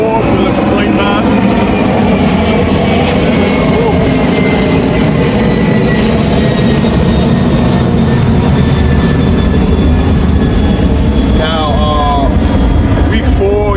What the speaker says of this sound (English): We let the plane pass.